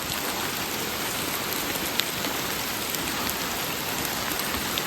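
Heavy rain falling steadily, a dense, even hiss of drops hitting surfaces that fills the whole stretch without pause, fairly loud and close, with no voices.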